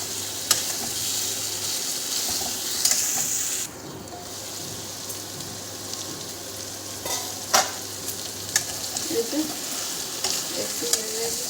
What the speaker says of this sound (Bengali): সয়াবিনটা দিয়ে একটু ভালো করে নেড়ে চেড়ে একটু ভেজে নেবো।